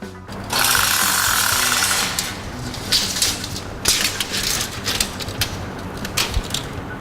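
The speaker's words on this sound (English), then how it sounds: "Tape measure was a little flimsy." A flimsy tape measure in a metal shop, a burst of rapid ratcheting blade rattle followed by a run of irregular clicks and clacks as the tape is worked, close and fairly loud with no speech.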